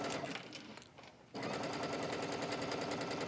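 A sewing machine runs a wrap dress seam at close range, buzzing fast and even. It starts after a brief pause, then keeps going steadily to the end.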